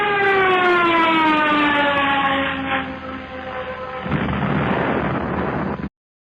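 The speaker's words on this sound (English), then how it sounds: "the powerful ship's automatic pilot took over, and managed to return the sleek rocket safely to Earth in a rough but non-fatal landing." A sleek rocket ship comes down in a rough crash landing: a loud wailing siren-like tone slides downward, then gives way to a heavy roaring rumble and burst that cuts off abruptly, with no voices.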